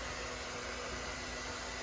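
Hair dryer running inside an RV on inverter power, a steady, even whooshing blow with a faint constant hum underneath, no voices.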